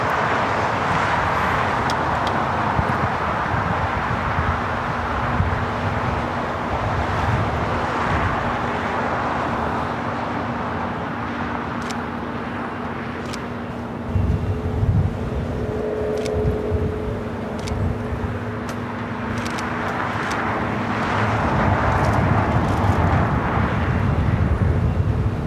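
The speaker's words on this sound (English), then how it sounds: "Here is that special livery, Aeromexico, the Kukulkan livery, coming in from Mexico City on this MAX 9" An Aeromexico Boeing 737 MAX 9 airliner in special livery arriving at LAX, a loud, steady jet roar rising and falling over about twenty-five seconds with wind buffeting, heard from a distance.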